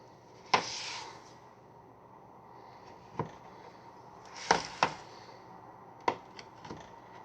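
Knife cutting through scone dough on a board: a handful of sharp, quiet taps and clicks spaced irregularly, each a brief knock of the blade against the surface, close and otherwise quiet.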